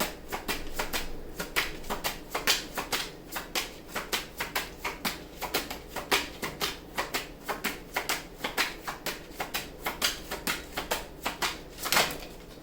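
Tarot cards being shuffled by hand, a close, rhythmic series of crisp riffling flutters repeating steadily for several seconds, with no talking.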